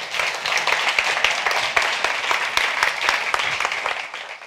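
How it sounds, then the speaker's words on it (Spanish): Audience applause welcoming film teams at a festival talk session, dense continuous clapping from a room of people, steady and fairly loud before tapering off at the end. "vamos a recibirles, como siempre, como son grandes amigos, con un fuerte aplauso."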